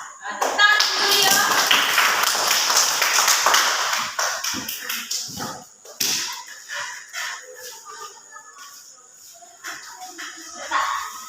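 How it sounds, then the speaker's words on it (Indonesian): Schoolchildren in a classroom clap their hands together, a loud dense burst of applause over the first four seconds that thins into scattered claps, with a teacher's voice and children's chatter around it. "Tepuk tangan dulu ya."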